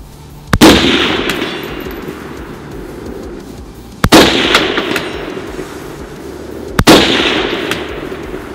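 A PSA AK-104 rifle fired at a long-distance range: three sharp, loud single shots several seconds apart, each ringing out with a long echoing decay.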